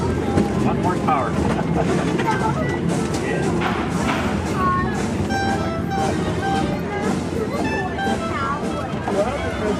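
A boat with a 1 horsepower motor gives off a steady, rumbling drone on the water, close and continuous, with people talking over it throughout.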